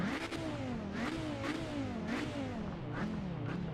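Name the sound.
racing car engine from Project Motor Racing video game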